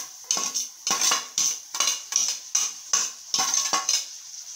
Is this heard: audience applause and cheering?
no